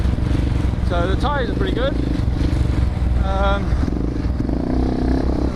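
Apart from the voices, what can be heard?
KTM 690 Enduro R motorcycle riding in sand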